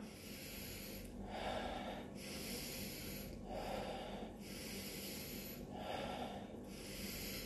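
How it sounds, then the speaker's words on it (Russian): Slow, deep breaths in a guided Wim Hof style pranayama breathing exercise, three long airy inhalations evenly spaced, soft and close with no speech over them. "Breathe big. Breathe big."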